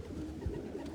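Racing pigeons coo softly in a loft on race day, a low throaty murmur over a steady background of bird noise.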